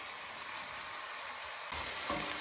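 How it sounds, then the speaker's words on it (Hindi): Chopped onions fry in oil in a pan, browning toward golden for chicken biryani, with a soft, even sizzle throughout that grows slightly louder and busier near the end. "बस अब हमें इसको फ्राई करना है कि थोड़ी सी गोल्डन हो जाए प्याज"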